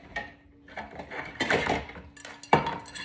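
Metal pots and pans clatter and clink as they are handled and set down, a few irregular knocks and scrapes at close range with no speech.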